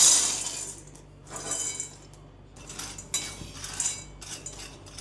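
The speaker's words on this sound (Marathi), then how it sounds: "आता कढई गरम झाली, आता आपण शेंगदाणे भाजून घेऊया" Raw peanuts roasting and being stirred in a hot kadhai for peanut chutney, giving close, uneven bursts of dry rattling and metallic clinking scrapes against a faint background hum, with no talking.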